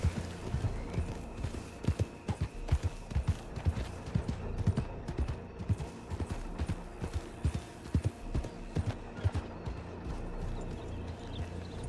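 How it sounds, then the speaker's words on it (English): Horse hooves clip-clop at a steady, uneven trot in a Red Dead western role-play game, moderately close and fairly quiet, with no one talking. "There is one horse there."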